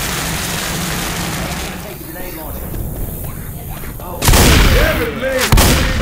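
Grenade launcher fired in a video game: two loud, close booming blasts in quick succession near the end, following a stretch of quieter background noise with players' voices chatting underneath.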